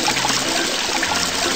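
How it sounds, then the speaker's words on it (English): Water running from a faucet in a children's cartoon, a short steady stream of splashing flow at even volume throughout. "Turn on the faucet."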